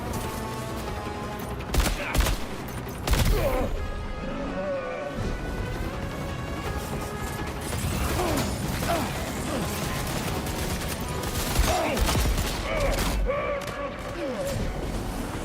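Shotgun blasts boom in Death Stranding 2, loud and close, spread irregularly among crashes, metallic clatter and combat noise. A person talks intermittently over the action.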